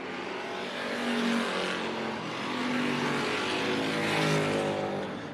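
Race cars circling the Tucson Speedway oval on the white flag lap, engines roaring loud and continuous with swelling passes as the pack goes by, no talk over it.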